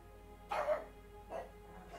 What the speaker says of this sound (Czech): Jedna se rozštěká, druhá štěká, protože ta první štěká.